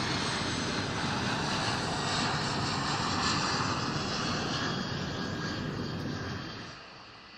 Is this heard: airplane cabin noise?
yes